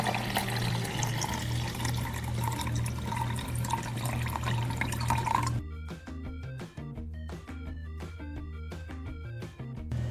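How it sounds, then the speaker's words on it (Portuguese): Milky white rice soaking water pours steadily into a container, a continuous rushing splash for over five seconds that then breaks into sparse drips and trickles, close and fairly quiet. "depois que eu deixei o arroz descansar bem, eu vou despejar toda aquela água branquinha em um recipiente"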